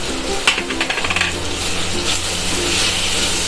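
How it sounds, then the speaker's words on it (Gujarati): Green chillies and roasted chana dal sauté in oil for idli chutney, soft sizzling with a few metallic clinks of a spoon against the pan early on, then a steady close frying hiss. "બધું તેલમાં એકદમ સરસ રીતે કોતળી લેવાનું છે"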